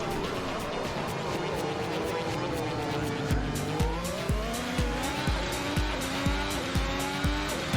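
A Formula 1 race car in a video game at the Magny-Cours circuit revs up through the gears with a loud, close engine whine, then gives a run of quick, regular downshift blips and brief tire squeal.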